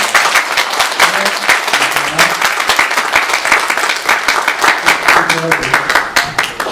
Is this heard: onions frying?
no